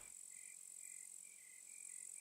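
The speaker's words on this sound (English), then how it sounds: "Crickets are so annoying." Crickets chirp steadily in the survival game SCUM, a faint, high, continuous trill with regular pulses that runs unbroken for the whole stretch with no speech.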